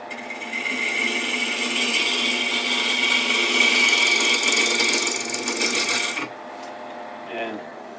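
Wood lathe spinning a geometric workpiece between centers, a steady whirring rasp that runs evenly, then cuts off as the machine stops, leaving quiet with a faint clink.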